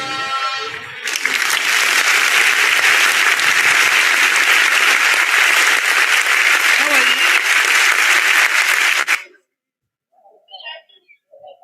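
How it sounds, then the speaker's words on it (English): An audience at a youth dialogue event gives a loud, sustained round of clapping that lasts about eight seconds and stops abruptly, preceded by a brief announcement and followed by faint talk. "A round of applause for His Excellency,"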